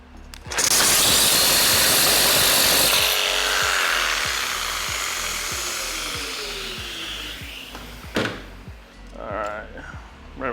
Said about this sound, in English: So now all I gotta do is cut this down to roughly 10 inches right in the middle.